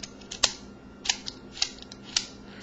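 An Eni puzzle piece clicks into place as it is turned, giving about five crisp, quiet clicks spaced irregularly against a soft background hush.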